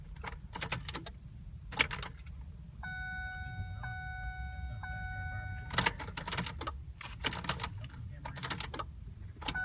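A 2009 Ford Fusion refusing to start with no crank: rapid clicking and rattling bursts from the car, a steady electronic chime tone in between, recorded close up.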